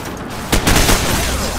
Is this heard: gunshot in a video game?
yes